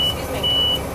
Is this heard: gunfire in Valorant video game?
no